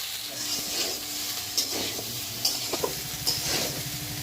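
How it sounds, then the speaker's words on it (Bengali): Boiled pasta stirred and fried over medium heat in a wok, a soft steady sizzle under scattered scraping and clinking of the spatula against the pan, fairly quiet and close. "পাস্তাটা দিয়ে অনবরত নেড়ে চেড়ে ওভেনের আজ মিডিয়াম রেখে চার থেকে পাঁচ মিনিট সময় নিয়ে ভেজে নেব"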